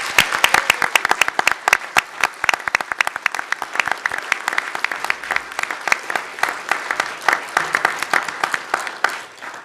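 A crowd at a governor's award announcement gives a loud, sustained round of applause with dense, rapid clapping that stays steady for nearly ten seconds.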